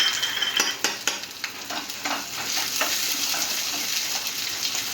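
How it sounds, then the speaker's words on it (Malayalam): Chopped shallots sizzle in coconut oil, a steady close-up crackle of frying with a few sharp clinks of a spoon against the pan early on and no voices. "ഉള്ളി, ചെറിയ ഉള്ളി അരിഞ്ഞ് നന്നായിട്ടൊന്ന് ചുവന്ന് വരട്ടെ."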